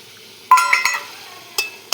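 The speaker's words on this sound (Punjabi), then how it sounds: "ਵਿੱਚ ਹੀ ਕੜਛੀ ਧੋ ਲਿਆ ਕਰੋ ਇਦਾਂ" A metal ladle clatters and scrapes inside a cooking pot of pumpkin curry as it is rinsed and stirred, giving a couple of close, bright clanks with a short ringing tail against a quiet background.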